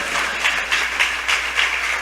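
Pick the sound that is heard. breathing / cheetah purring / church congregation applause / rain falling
church congregation applause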